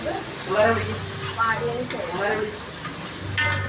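Finely chopped shallots fry in a pan for hotel-style upma, a moderate sizzle broken by stirring scrapes while a voice speaks over it.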